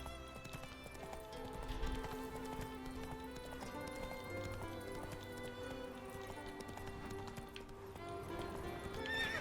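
A horse in The Witcher video game gallops with steady clip-clop hoofbeats and whinnies, faint and set under a music score.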